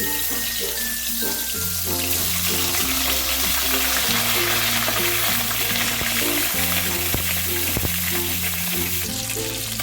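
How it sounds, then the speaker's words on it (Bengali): Loud, continuous sizzling and crackling of bhola fish frying in mustard oil, steady throughout with a low hum underneath and no voices. "মাছগুলোকে একটু বেশ কড়া করে লাল লাল করে ভেজে নিলাম"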